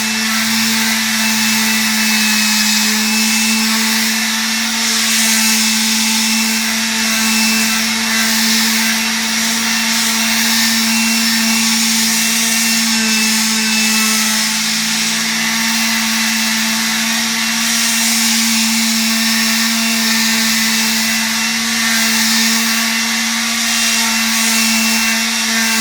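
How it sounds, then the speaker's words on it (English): A power sander runs continuously, loud and near, as it works over the wooden case of a Hampton FM-800 tube tuner, a steady droning whine with no one talking. "get the sander out and try to sand down this case"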